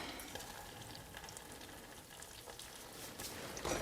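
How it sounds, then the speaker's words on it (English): Butter and packed brown sugar heat in a pan toward a boil, giving a steady, close sizzle and bubbling hiss that runs throughout with no talking. "Now I'm going to add 3/4 cup of packed brown sugar. And we will bring that to a boil."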